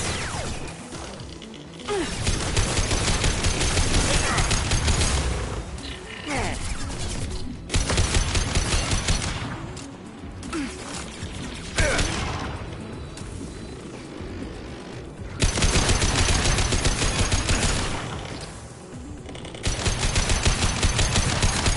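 Sustained automatic gunfire in Mass Effect Legendary Edition, long bursts of rapid shots broken by short pauses, loud and close with clatter and impacts mixed in, no voices.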